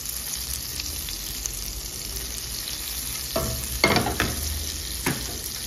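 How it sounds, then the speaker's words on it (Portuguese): Butter melts and sizzles steadily in a cooking pot with a soft crackling hiss, joined near the end by a few brief clatters and scrapes. "colocando a manteiga na minha panela e deixando ela derreter"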